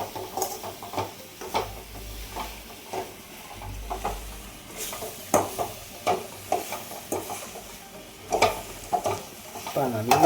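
Masala stirred through quail pieces frying for a kadai kuruvi uppukari, with steady sizzling under repeated scraping and stirring strokes, close and moderately loud.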